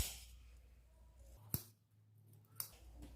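Fabric shears give two sharp, quiet snips about a second apart, clipping into the seam allowance of a raglan-sleeve coat collar during sewing, with a low steady hum beneath and no talking.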